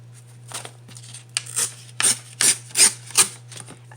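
Scissors cut through a paper craft figure for a Halloween and fall pocket-and-tag project, giving a series of short raspy snips that grow louder and quicker, heard up close over a low steady hum.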